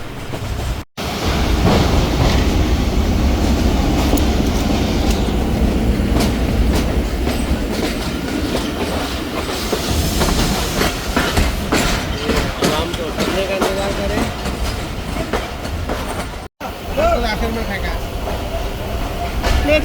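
A Subak Raftar railcar train rolls steadily through Badami Bagh railway station near Lahore, with loud continuous rumbling, rhythmic wheel clatter and rail clicks heard from on board, and voices talking over it.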